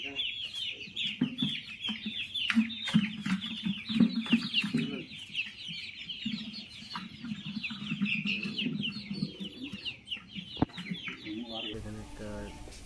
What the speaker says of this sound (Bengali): এই সব ঝুড়িতে রয়েছে মুরগি, সব ঝুড়িতে মুরগির বাচ্চা রয়েছে এই সব ঝুড়িগুলোতে।